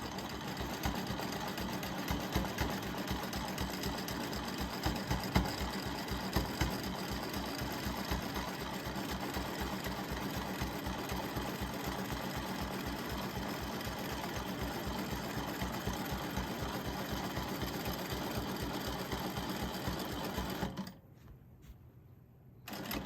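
A sewing machine stitching free-motion curves on a small monarch quilt piece, a fast steady needle chatter running continuously for about twenty seconds before stopping abruptly, close and moderately quiet with no talking.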